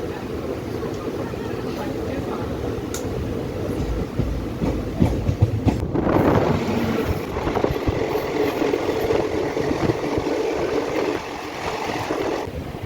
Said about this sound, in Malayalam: കോയമ്പത്തൂർ ഇൻ്റർസിറ്റി സൂപ്പർഫാസ്റ്റ് എക്സ്പ്രസ്സിൽ ഇപ്പോൾ വന്ന് ജസ്റ്റ് ഇവിടെ ഇറങ്ങി വണ്ടി പോയി